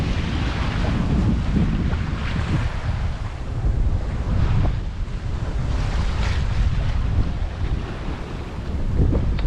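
A sailboat under way at sea on a passage toward Grenada, with steady wind buffeting the microphone and waves surging and breaking against the hull, loud and continuous throughout.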